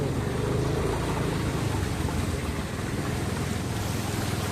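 Floodwater in a village rushes and churns in a continuous broadband roar, loud and close, with wind buffeting the microphone throughout and no voices.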